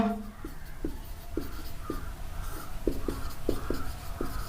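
Chalk or a marker taps and scratches out words on a board in short, regular strokes, with a voice speaking over the writing.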